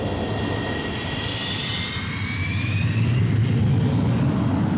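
A MiG-23 Flogger jet roars loudly as it takes off from an autobahn stretch. The thick, continuous engine rumble carries a thin rising whine and builds slightly toward the end.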